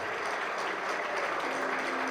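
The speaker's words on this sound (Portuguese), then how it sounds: "uma salva de palmas a todos que fazem parte, fizeram parte do CVG São Paulo" Steady audience applause at a 45th anniversary event for an insurance executives' association in São Paulo, a dense, continuous wash of clapping from a large crowd that holds evenly throughout.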